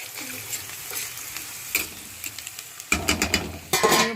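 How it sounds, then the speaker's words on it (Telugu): Onions fry in oil in a pan for a potato curry, giving a steady close sizzle with intermittent stirring scrapes and clatter, and louder bursts of crackling toward the end. "ఆనియన్స్ ఫ్రై అవుతాను బాగా మూత పెట్టాను"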